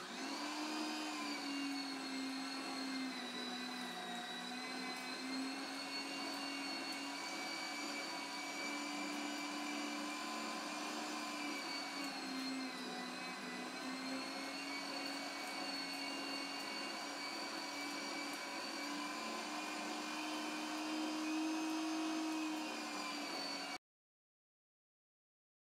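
An electric meat grinder minces meat for Mett, a loud, continuous motor whine with a steady pitch that hums on unchanged for over twenty seconds before stopping abruptly, with no talking.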